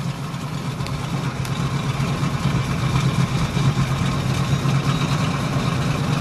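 A 1963 Buick Wildcat's 401 V8 idles through dual exhaust with a deep, steady rumble and a slightly uneven burble, heard up close with no talking.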